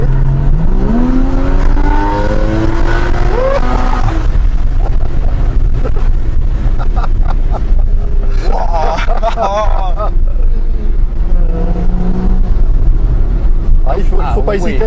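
A car accelerating hard with the pedal floored, engine note climbing through the revs and then dropping back, loud and continuous with wind noise, while people talk over it at intervals.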